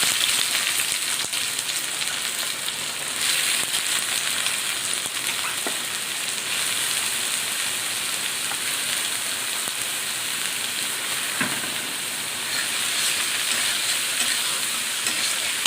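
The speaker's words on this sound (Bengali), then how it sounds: "পেঁয়াজটা একটু লাল লাল করে ভেজে নেব" Chopped onions frying in white oil in a pan, a dense, loud and continuous sizzle like heavy rain that stays even throughout the clip, with a few faint stirring touches and no voices.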